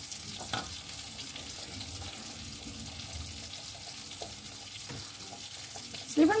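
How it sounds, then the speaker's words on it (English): Scrambled eggs stirred and frying in a pan while a full cooked breakfast is made, a steady soft sizzle with light scraping and clinking of the utensil, a louder clatter at the end. "So just stirring the scrambled eggs."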